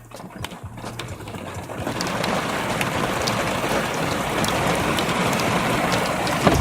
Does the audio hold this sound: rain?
yes